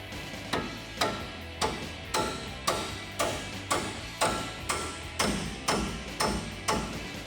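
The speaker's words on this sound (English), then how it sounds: "I'm going to take my hammer" A steady series of sharp metallic taps from a hammer driving a bolt through a truck suspension part, roughly one every half second, close and evenly spaced, with no talking.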